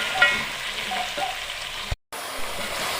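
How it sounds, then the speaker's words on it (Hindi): Two roughly chopped large onions fry in a pan for a beef curry, giving a soft, steady sizzle with light stirring and a brief dropout partway through. "प्याज को अब हमने ट्रांसपेरेंट होने तक पकाना है।"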